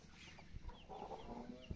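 Chickens cluck softly at a distance, with scattered bird calls over a faint background murmur.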